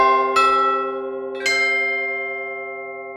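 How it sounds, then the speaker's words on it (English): A sampled celeste and tubular chimes blended equally from a free sample library: two struck notes with bright metallic attacks, each ringing out and fading slowly with long sustain, no voices. "equal blend between the Celeste and the Chimes with the preferred mic mix that I put together"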